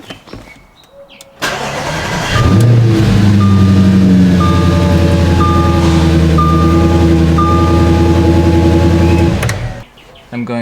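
A 2011 Audi S5 being switched on: a click and rising whir as the engine cranks and catches, then a loud, steady close idle hum with a series of short electronic chime beeps over it before it cuts off.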